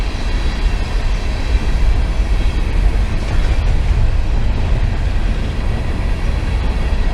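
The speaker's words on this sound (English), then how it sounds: "now we have to wait on the train" A long train passes a road crossing in small-town Oklahoma, a loud, close, continuous rumble of rolling wagons heard from a waiting car, steady throughout.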